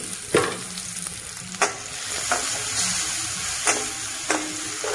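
Turmeric spitting in hot oil gives a steady close sizzle, broken by a few sharp scrapes and knocks of a spoon stirring it in the pan. No one speaks.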